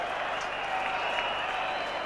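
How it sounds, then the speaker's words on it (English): Cricket crowd at a 1990 West Indies versus England match applauding a boundary drive through the covers, a steady dense wash of clapping and cheering that holds at the same level throughout, with no clear speech over it. "Viv Richards' shot has brought the crowd to life."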